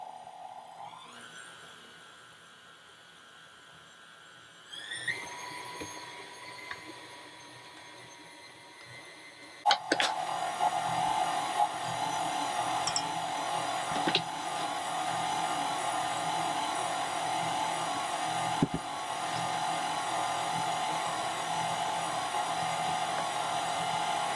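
A KitchenAid stand mixer whirs steadily with a strong motor tone, stepping up in speed twice and getting louder, with a few clatters from the bowl along the way.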